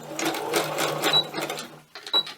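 Sewing machine stitching fabric scraps into scrappy clusters for gift cards, running in steady bursts with a brief pause near the end, close and fairly loud, with no talking.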